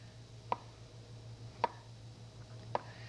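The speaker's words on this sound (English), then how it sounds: "Always cut the core off" A knife cuts the core out of a cabbage with three sharp, evenly spaced thunks against the board, near and distinct over a low steady hum.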